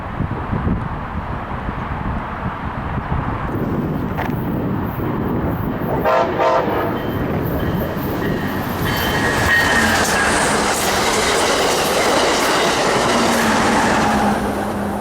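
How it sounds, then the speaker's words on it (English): An Amtrak Hiawatha passenger train rounds a curve and passes on the CP C&M Subdivision, a loud, steady rumble of wheels and cars close by, with a horn sounding briefly partway through. "Amtrak Hiawatha 333 comes around the corner to the south"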